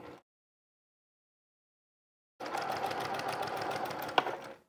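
A sewing machine back stitches through a quilted jacket, a brief whir, a silent pause, then a steady close mechanical hum with a small click near the end.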